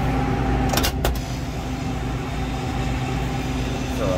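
A refrigerated produce case with its fan running and the compressor off gives a steady low mechanical hum with tonal drone, broken by two brief sharp clicks near the start.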